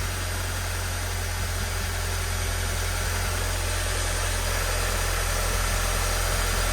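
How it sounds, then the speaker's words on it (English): A B7 Audi A4 Quattro with an automatic gearbox idles after a flex pipe replacement, giving a steady, loud, even engine drone with a constant low rumble and no pauses. "It's only engine sound."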